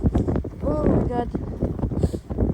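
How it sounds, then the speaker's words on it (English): Strong wind gusting through a snowstorm in Kristiansand, Norway, roaring and buffeting the microphone continuously, with someone talking over it. "I'm facing the rain and the snow, facing the wind"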